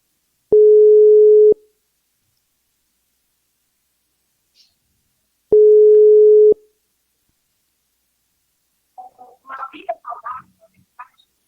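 Telephone ringback tone while a call waits to be answered, two long steady beeps about four seconds apart over silence, followed by a faint voice speaking briefly.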